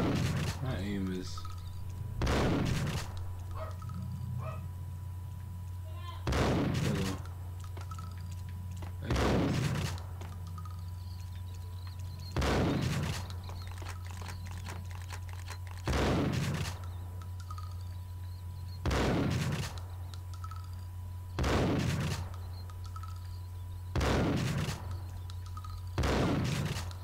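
Gunfire from Max Payne, heard as eight evenly spaced loud shots or short bursts about every three to four seconds over a steady low game hum, with a voice talking in between.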